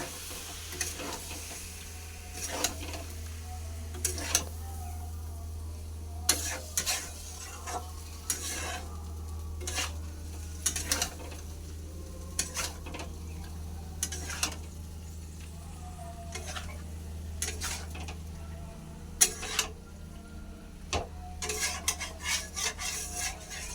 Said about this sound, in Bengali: আমি এমনি করে রান্না করছি